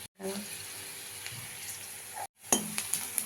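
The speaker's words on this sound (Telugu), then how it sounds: "ఆయిల్ హీట్ అయిన తర్వాత ఆనియన్స్ వేసుకున్నాము. తర్వాత కరివేపాకు, ఎండుమిర్చి వేసుకున్నాము." Onions, curry leaves and dried red chillies fry in hot oil in a pan for semiya upma, giving a steady soft sizzle broken by two short silent cuts, with a few sharper crackles and clinks near the end.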